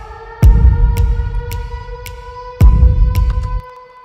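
Atmospheric sound design elements for a Twitch stream opener: two deep booming hits with sustained low rumble, steady droning tones beneath, and a series of sharp ticking transients spaced about half a second apart, loud and without speech.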